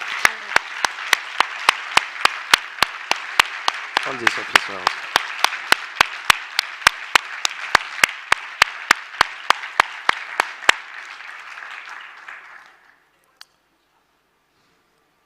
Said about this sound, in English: Please give them a big applause for all